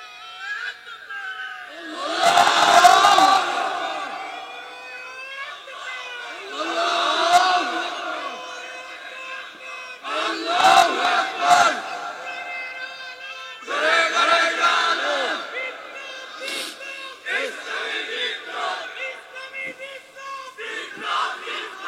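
A large crowd at a Bangla religious sermon gathering shouts the slogan Naraye Takbir, Allahu Akbar in loud unison, several separate call-and-response bursts spaced a few seconds apart, each a roaring chant that swells and fades.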